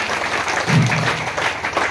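A church prayer-meeting congregation claps loudly to thank the Lord, a dense, steady wash of applause filling the whole short moment.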